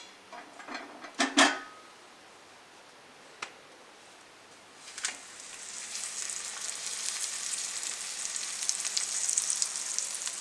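An aloo paneer paratha roasts in oil on a griddle, a soft steady sizzle that builds and holds through the latter half after a few sharp taps and clicks from a utensil early on.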